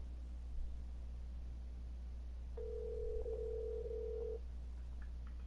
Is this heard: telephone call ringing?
yes